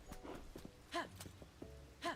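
Horse in Zelda: Tears of the Kingdom, with soft clip-clop hoof steps at an uneven pace and snorting breaths, moderately close with no speech.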